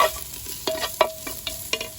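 Garlic and ginger sliced fine are stirred as they fry in a clay pot over a firewood fire, a steady sizzle broken by several sharp scraping strokes of the spoon against the pot, close and alone.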